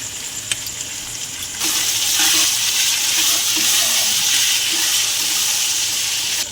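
Onions with ginger, garlic and green chilli paste going into a hot pan: a sudden burst of loud sizzling begins after a short quiet lead-in and continues evenly up close.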